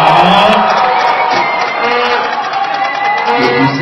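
A live audience at a rap battle contest shouts and cheers loudly and continuously, a dense crowd roar with whoops rising and falling throughout.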